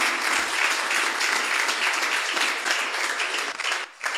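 Church congregation applauding during a sermon, a steady dense wash of many hands clapping that holds for about four seconds, then thins and drops away near the end.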